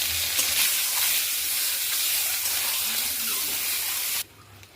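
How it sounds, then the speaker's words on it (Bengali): Eggs frying in oil in a pan, a steady close hiss and sizzle that runs evenly for about four seconds, then cuts off abruptly, leaving a much quieter tail. "আমি একটু ভেজে নিচ্ছি।"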